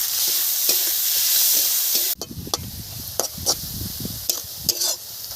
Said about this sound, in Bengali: দেখুন পেঁয়াজটা খুব সুন্দর করে ভেজে নিয়েছি, একদম নরমও হয়ে গেছে।